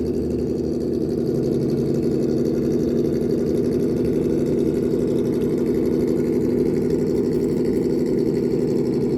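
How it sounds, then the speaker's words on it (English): Traxxas TRX4 High Trail RC crawler electric motor running in second gear, a steady continuous whirring drone that stays close and loud throughout with no pauses and no voices. "I'm gonna run right now, this second gear, I'm gonna crawl this in second gear."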